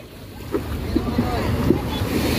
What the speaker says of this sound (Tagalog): Sobrang lakas po pala ng alon dito guys.